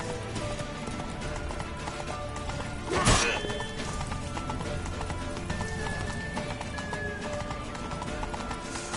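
Steady clip-clop of galloping hooves with a horse whinny midway, set against a busy game soundscape of music and effects.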